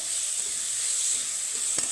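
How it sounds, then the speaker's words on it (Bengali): Chopped onions sizzling and hissing in hot oil, a steady close frying sound with a few faint clinks of stirring. "লঙ্কা কুচি ভাজা হয়ে গেছে দিয়ে দিব পেঁয়াজ কুচি"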